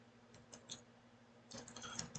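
Computer keyboard typing on a website editor, a few soft isolated clicks followed by a faster burst of keystrokes, quiet and close over a faint background hum.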